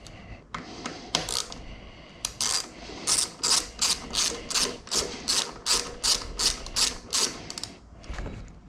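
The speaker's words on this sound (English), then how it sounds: "Now it's time to tighten everything back into place." A ratchet tightens tie rod nuts on a Goldwing motorcycle, giving a close run of regular bright clicks in rhythmic bursts that grows steadier toward the end.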